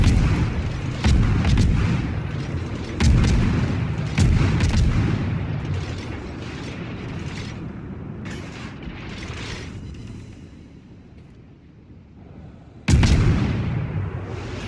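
The destroyer Kidd's naval guns fire in World of Warships ranked play: heavy booming salvos land close together early, then a long rumbling lull before one more loud blast.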